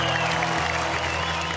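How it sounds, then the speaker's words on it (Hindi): A studio audience applauds on a Hindi family game show, steady clapping that runs the whole moment at moderate volume beneath a low musical hum. "तालियां प्लीज"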